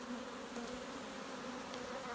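A swarm of honey bees buzzing around wooden hive boxes, a steady, close, continuous drone with individual insects flitting past, no voices.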